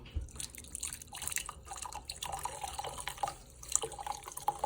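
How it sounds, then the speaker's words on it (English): Mulled wine trickling and dripping steadily through a screen into a wine glass, a light splashing pour with small clinks, close by and fairly quiet. "So I'm going to pour very carefully."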